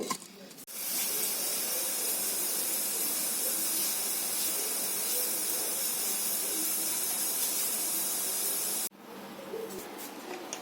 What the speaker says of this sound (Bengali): এখন আমি প্রেসারে সিটি মেরে দেবো